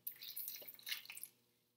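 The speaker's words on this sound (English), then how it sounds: "I'm just going to pour a little bit of this broth in." Vegetable broth splashes and trickles briefly into a pan, a quiet pour lasting about a second before fading out.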